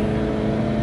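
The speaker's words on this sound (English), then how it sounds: "You have to rev it quite a bit to get it going because you know it's a small engine." Small engine of a 1991 Subaru Sambar 4WD kei van revving, a loud, steady droning whir heard up close in a brief burst.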